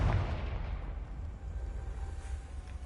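A Confringo spell blast in Hogwarts Legacy, a loud booming explosion at the start that rolls into a long, dense rumble that slowly fades.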